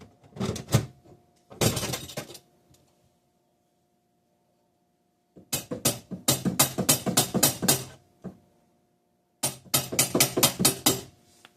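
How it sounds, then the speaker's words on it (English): Clusters of sharp, loud metallic hammer strikes on a kitchen drawer part in rapid runs, separated by pauses, close up and without speech. "I need to bang this down with a hammer"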